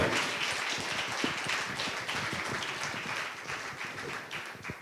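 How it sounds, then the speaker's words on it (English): Audience applause for Dr. Pal at a fan meet show in Singapore, a continuous, fairly distant wash of many hands clapping at an even level throughout. "Give a big round of applause for Dr. Paul."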